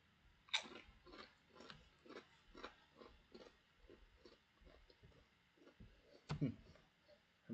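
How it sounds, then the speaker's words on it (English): Close, wet munching and crunching of food right at the microphone, a steady run of chewing bites with a couple of louder crunches, no talk over it. "Probably the only day you're gonna ever hear me munch on camera."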